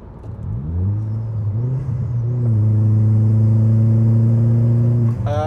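A Vauxhall Zafira engine that had lost throttle fires back up and revs while driving, with a steady, loud hum that climbs in pitch and then holds high, ending with a brief burst of noise.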